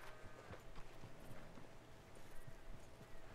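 Horse hooves clip-clop at an easy walking pace in Red Dead Redemption 2, steady, moderately close steps over quiet game ambience.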